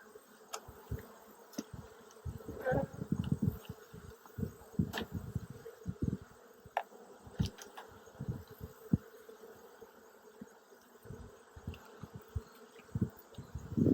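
Close buzzing of honey bees around an open Tennessee hive, a continuous drone punctuated by soft bumps and clicks of frame handling.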